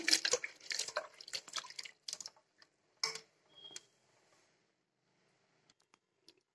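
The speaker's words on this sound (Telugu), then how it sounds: "ఇలా మటకాయలన్నీ తుంచుకొని నీళ్ళల్లో వేసుకొని కడుక్కోవాలి శుభ్రంగా." Green pods being rinsed in a bowl of water for a curry, with irregular splashes and drips close by, busy at first and then thinning to a few isolated drops near the end.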